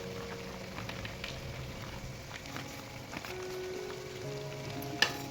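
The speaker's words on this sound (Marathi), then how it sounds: "तेल आता शेंगतेल हे घालून घेऊया आपण ह्याच्यात, म्हणजे लवकर जरा पटकन भाजेल कांदा." Onion frying in groundnut oil gives a soft, continuous sizzle with a low hum underneath and a faint scrape or two, quiet and even throughout, no voices.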